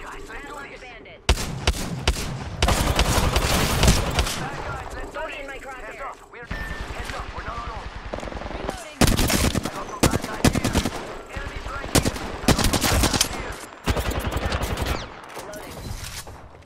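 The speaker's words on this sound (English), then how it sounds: "They're shooting at me." Dense automatic gunfire fills an Apex Legends match, with loud sustained bursts and scattered single shots amid game effects, and voices speaking over it.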